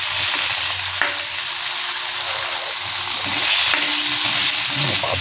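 Meatballs and potatoes sauté in a pan, a loud, dense, continuous sizzle up close that swells slightly toward the end, with faint stirring clinks and no voices.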